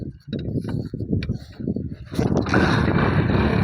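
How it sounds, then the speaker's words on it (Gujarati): A Kawasaki motorcycle engine cranks and catches, settling into a loud, steady idle after some clattering handling noises. "ચાલુ આપણે કાવાસાકી"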